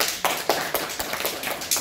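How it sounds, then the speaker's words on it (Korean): An audience at a Korean Daejonggyo religious lecture breaks into loud, steady rhythmic clapping in unison, with crisp, evenly spaced claps and no voices over them. "박수 안 칩니까?"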